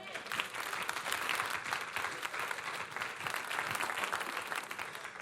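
A church congregation breaks into sustained, loud applause during a sermon, a dense wash of clapping holding steady throughout with faint crowd murmur mixed in.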